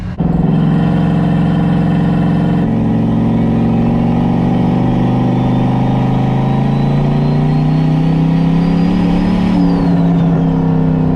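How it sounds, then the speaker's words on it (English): A turbocharged LS-swapped VW Bug revs hard through a very loud exhaust, the engine note climbing steadily and then dropping off near the end, close and alone with no talk. "That exhaust is loud."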